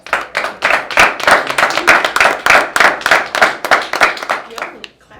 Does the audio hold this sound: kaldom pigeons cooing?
no